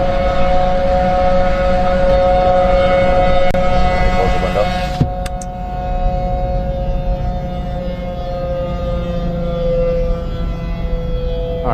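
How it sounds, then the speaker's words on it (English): Tornado sirens give a sustained wail with steady tonal bands, loud and continuous, over low rumbling background noise; the sound dips briefly midway then carries on. "And you can hear the tornado sirens."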